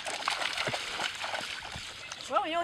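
A dog splashes through flooded back-yard water with soft, irregular sloshing, faint and close, followed by a brief squeaky vocal sound at the end.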